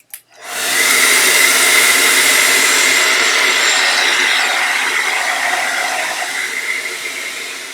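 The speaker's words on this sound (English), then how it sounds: "I'm gonna blow dry this because it's wet." A hair dryer switches on after a short click and blows a steady, loud whooshing hum over a wet watercolor painting, holding constant for several seconds before easing slightly toward the end.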